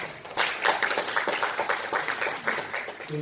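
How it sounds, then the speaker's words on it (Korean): Moderate clapping from an audience at a city residents' meeting welcoming the mayor, a brief burst of scattered hand claps at mid distance. "늘 애써주시는 우리 상천부 시장님을 박수로 맞이해 주시기 바랍니다"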